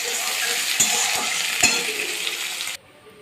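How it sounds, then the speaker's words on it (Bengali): Onions salted and frying in a pan sizzle steadily up close, with a few soft scrapes of stirring before the sizzle cuts off near the end. "পেঁয়াজগুলো এখন লাল লাল হয়ে ভাজা ভাজা হয়ে যায়"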